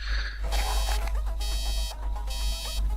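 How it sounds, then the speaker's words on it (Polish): Security alarm in the video game Dark Ocean, a loud electronic beeping that repeats in regular bursts over a constant low hum, with brief quieter gaps between the pulses. "Security alarm?"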